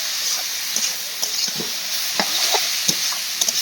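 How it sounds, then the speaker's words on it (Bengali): Shredded cabbage stirred and tossed in a hot pan with cumin, bay leaf and dried red chillies, a steady oily sizzle broken by scattered soft scrapes and clinks of the spatula, close and moderately loud. "দিয়ে দেখো এইভাবে কিছুক্ষণ নাড়াচাড়া করব।"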